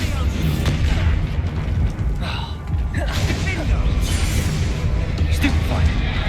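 Spell explosions and magical blasts in a Harry Potter video game, dense and continuous booming with creaks and mechanical rumbles, loud and close, while a voice shouts spell names over the top.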